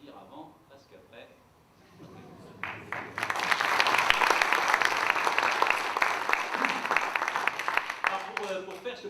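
An audience at a live comedy show breaks into sustained, loud applause that swells after a few seconds and holds steady, with a performer's voice heard faintly before it starts.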